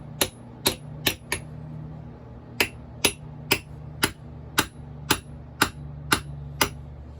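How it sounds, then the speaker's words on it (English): Sharp metallic taps of a hammer on a brass punch while working on a Stihl MS250 chainsaw ring out, four quick strikes, a pause, then nine more at a steady pace, each close and bright over a low hum. "brass punch and a hammer"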